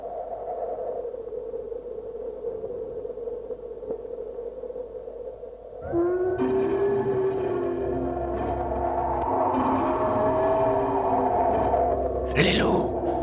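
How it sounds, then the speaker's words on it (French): Wolves howling in the animated film Balto (1997), set in snowy wilderness: long, wavering, gliding tones rise over a low soundtrack bed, swell louder partway through and end with a brief bright cry. "Les loups."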